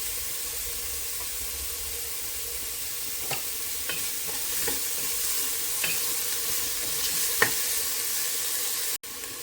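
Onions sautéing in oil with toasted spices, ginger, garlic and a teaspoon of salt for a vegetable pulao, giving a steady close sizzle with occasional stirring scrapes and a brief clatter near the end.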